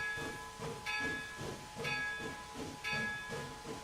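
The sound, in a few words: steam locomotive hissing as throttle opens, from a train video game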